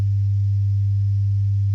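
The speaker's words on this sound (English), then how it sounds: "Currently this is a sine wave oscillator, so you can see it's doing exactly as you expect a sine wave to do" A low sine wave oscillator built in Protoplug holds one steady, loud, pure tone from start to finish, with nothing else heard.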